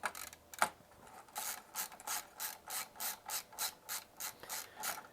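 An LTT ratcheting screwdriver with a tamper-proof T8 bit backs out screws on a PS5 Slim, giving a close, quiet run of rhythmic ratchet clicks after a single knock.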